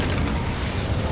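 A fire spell cast in a fantasy action game set at a wizarding school, heard as a dense, steady roaring whoosh with a low booming rumble that holds loud through the whole short stretch, with no voices.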